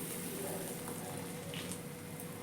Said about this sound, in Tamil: இப்போ கொதிக்குது.